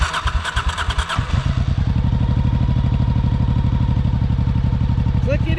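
A motorcycle in neutral is switched on after some clattering handling noise, then its engine settles into a steady, close, pulsing idle that runs on alone to the end.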